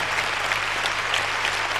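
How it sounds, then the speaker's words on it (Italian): Audience at the Golden Circus applauding, a thick, even roar of many hands clapping at close range, steady throughout. "Un applauso a loro e la loro splendida, straordinaria carriera"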